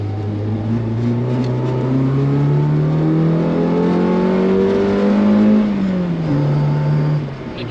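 The engine of a Toyota AE86 revs while driving, loud and close, rising smoothly in pitch for several seconds as the throttle opens, then dropping as it lifts off and settling to a lower drone.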